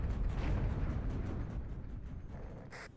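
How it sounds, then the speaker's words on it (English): Mortar fire in the WARNO real-time strategy game, a dense rumble of overlapping booms and blasts rolling continuously, loud and low, with a sharper crack at the end. "Get the mortars to shoot there, I guess."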